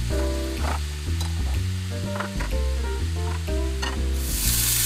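Vegetables tossed with a fork in a hot pan for yakisoba, with noodles frying in a second pan: a steady close sizzle runs throughout under bright musical tones, with a brief burst of hiss near the end.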